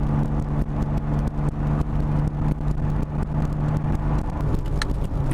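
A Toyota Supra engine hums and revs under hard driving, a steady mid-pitched drone heard from inside the car with slight swells in pitch, moderately loud and continuous, no talking.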